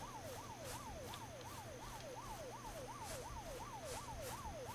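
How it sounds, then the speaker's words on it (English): An emergency vehicle siren in the video game Unturned wails steadily and loudly in a fast, repeating up-and-down sweep over a low engine rumble, with no talking. "How in the heck did you hear me with that siren going off right by your head?"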